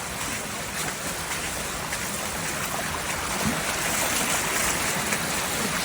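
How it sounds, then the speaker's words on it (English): Floodwater rushes after heavy overnight rain in Franschhoek in September 2023. The roar is loud, continuous and broadband, staying steady throughout with no clear pauses. "There's just water everywhere."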